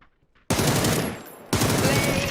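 SLR rifle in PUBG fired in rapid spam bursts, two loud dense volleys of shots separated by a brief dip, close and harsh.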